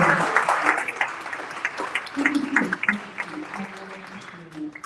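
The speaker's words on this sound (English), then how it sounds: "I appreciate the applause." Clapping from a crowd fills the clip, a dense patter of many hands that swells and then gradually thins out, with some voices mixed in.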